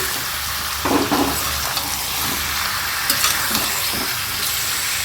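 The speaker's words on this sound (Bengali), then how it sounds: "এই যে মাংস দিয়ে দিয়েছি দিয়ে দেখো পেঁয়াজ লঙ্কা আর এদিকে রসুন আদা দেখো দিয়ে দিয়েছি ভালো করে না এগুলো কষাবো" Meat sautéing in oil with onion, chili, garlic and ginger, a loud dense sizzle throughout, broken by a few soft stirring scrapes.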